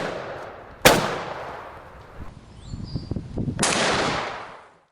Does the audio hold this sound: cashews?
no